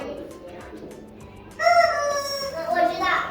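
A toy chicken from a mystery box crows with a bright, electronic cock-a-doodle-doo. It starts abruptly partway through and is loud and close after a quieter opening.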